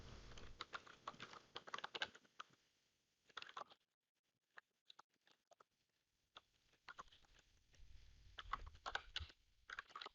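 Website addresses are typed on a computer keyboard in quick, close bursts of clattering keystrokes. The bursts are split by a near-silent pause broken by a few isolated taps. No one speaks.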